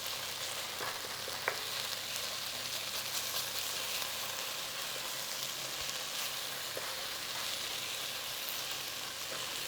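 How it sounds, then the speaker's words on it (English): Spices and red chili powder blooming in hot oil over a moderate flame for chicken jalfrezi, a steady close sizzle and crackle with faint stirring scrapes throughout, no talking. "Nice little bloom on those spices"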